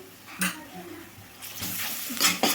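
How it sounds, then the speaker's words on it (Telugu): Ginger garlic paste frying with onions in a pan for chole masala, a soft sizzle broken by a few short scraping stirs, with a voice talking over it. "అల్లం వెల్లుల్లి పేస్ట్ కూడా మంచిగా వేగాలండి"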